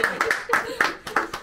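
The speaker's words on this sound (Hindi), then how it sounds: "तालियां। सेलिब्रेशन।" Several people clap at a birthday party at home, a few short uneven bursts of close hand claps with voices under them.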